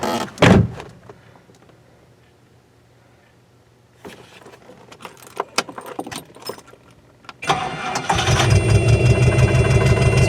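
Keys jangle and a car door opens before an old Rolls Royce with a red-hot catalytic converter and a partly missing passenger-side exhaust fires up, then settles into a loud, rough, steady idle close by.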